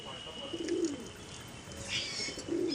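Pigeons cooing at a loft of flying pigeons, soft repeated low coos in a few phrases with faint chirps, fairly close and moderate in level.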